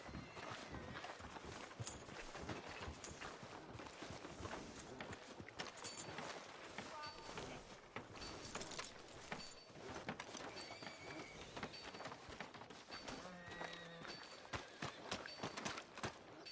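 Horse hooves clip-clop steadily on a street in the Red Dead Redemption 2 video game, a continuous faint rhythmic patter under game ambience.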